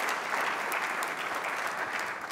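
Applause at a conference opening for its sponsors: a dense, steady wash of many hands clapping from a large audience, moderately loud and sustained throughout without pauses.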